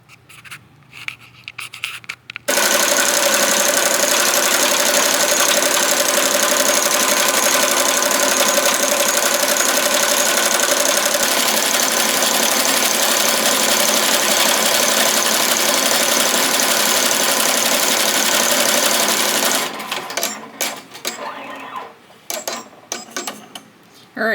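An embroidery machine stitches an in-the-hoop frog plush dog toy with a continuous fast, buzzing rattle at close range for about seventeen seconds, bracketed by brief handling clicks and knocks before and after.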